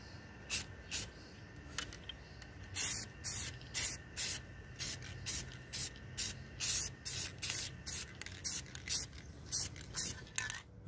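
Rustoleum enamel spray paint hisses from an aerosol can onto a guitar body in a regular series of short close bursts, with faint rattling in between.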